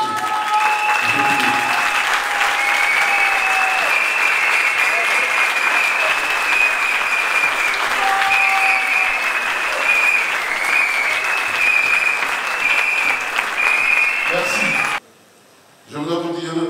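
A large crowd at a PDCI-RDA political rally in Grand-Bassam, Côte d'Ivoire applauds and cheers for a long, sustained stretch with shouts mixed into the clapping, then cuts off abruptly near the end.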